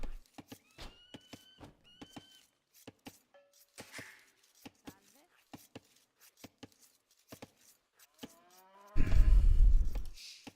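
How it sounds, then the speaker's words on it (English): Cattle in a real-time strategy video game, a 1v1 match played with the Byzantines, give a short moo-like call amid a steady run of sharp clicking game sounds, followed by a louder burst of noisy game effects at the end. "you killed that cow by mistake or what?"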